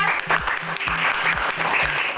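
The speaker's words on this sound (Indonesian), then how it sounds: "tepuk tangan dulu untuk kelompok Indonesia" Students in a classroom clap for the Indonesia group, a brisk, even burst of many hands at moderate loudness.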